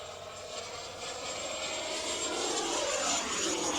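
A QT T45 Goshawk RC jet with an electric ducted fan on a 6S battery screams past at full power, a steady, loud high-pitched whine that swells slightly as it nears, with no voices.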